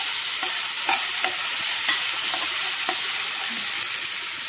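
Whole spices and fenugreek seeds fry in hot oil with a loud, steady sizzling hiss, punctuated by a few soft stirring knocks, close and without voices.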